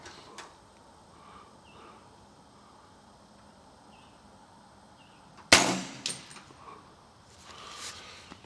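A 300 Blackout rifle fitted with a DNT Optics HYDRA HS650R thermal scope fires a single loud, sharp shot during zeroing outdoors. A short echoing tail follows a quiet stretch with faint distant birds.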